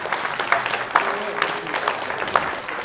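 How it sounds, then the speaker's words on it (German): A church congregation claps with a loose, uneven applause, a cluster of hand claps and brief peaks under a voice that keeps talking over them. "Würdest du für Jesus in Jubel ausbrechen, dann darfst du jetzt auch deinen Nachbarn klatschen."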